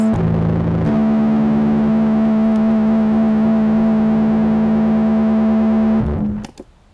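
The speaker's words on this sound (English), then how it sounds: "You can also make different sounds when you have your pedals on" Guitar pedals and an amp hum with a sustained distorted, droning tone that holds steady and loud for about six seconds, then cuts off, leaving a few sharp clicks and pops from handled gear.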